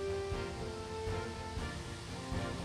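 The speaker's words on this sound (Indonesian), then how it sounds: "Air yang keluar dari puncak gunung mengalir deras layaknya air yang jatuh dari langit" A continuous roar of a mountain waterfall in Sulawesi fills the clip, steady and fairly loud with no voices.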